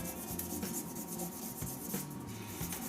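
Steady rasping rub of abrasive against a hybrid resin and wood shaving brush handle turning on a lathe, working down a small lump, continuous and close with a low motor hum beneath.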